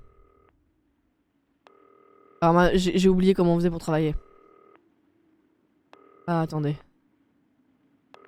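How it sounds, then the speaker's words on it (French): A phone rings in a video game, several repeated electronic tone bursts in steady pulses, while a person talks over part of it. "On va répondre au téléphone déjà."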